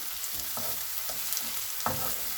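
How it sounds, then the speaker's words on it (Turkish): Tomato paste frying in a pan gives a continuous soft sizzle, with a few brief scraping stirs of a utensil on top. "Önce salçamı ilave ediyorum. Salçamı da kavuracağım"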